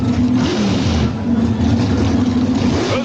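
NHRA drag racing car engines held above idle at the staging line, a loud rough low rumble with slight surges, continuous for a few seconds.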